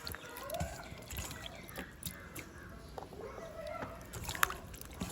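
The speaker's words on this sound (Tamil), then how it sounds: "புளியை நல்லா கரைச்சி எடுக்கணும்." Tamarind being squeezed and dissolved by hand in water for bottle gourd rasam, giving soft intermittent sloshing and trickling close by over faint background noise.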